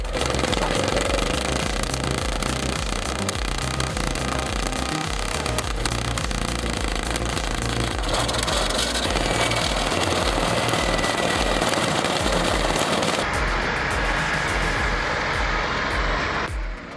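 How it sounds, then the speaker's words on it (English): The donkey starting engine firing up on a Caterpillar D8H bulldozer, a loud, rapid, rattling mechanical clatter that runs continuously with gritty texture, shifting in tone partway through. "Listen to that sound as the donkey engine fires up this Caterpillar D8H."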